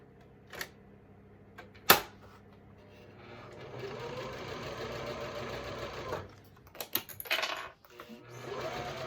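A domestic sewing machine stitches a Harlequin vinyl pouch, running in a steady mechanical whir for about two seconds. A few clicks and knocks come before it, and short uneven bursts of stitching follow.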